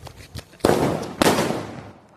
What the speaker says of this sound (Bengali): এবার বাজি ফাটাচ্ছে